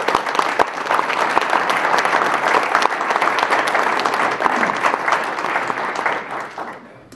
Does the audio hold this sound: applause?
yes